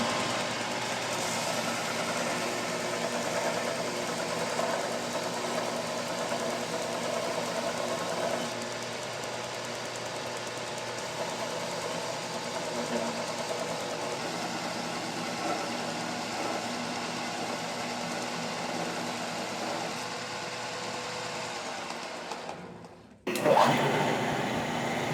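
A belt sander grinds steadily against a bronze crank arm being made for an 1894 Giraffe bike, giving a continuous whirring hum that holds for over twenty seconds before stopping abruptly, followed by a brief clunk.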